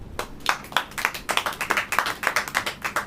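Church congregation clapping in unison, a steady rhythmic series of sharp hand claps at roughly three to four per second, moderately loud and close, with many hands blending together.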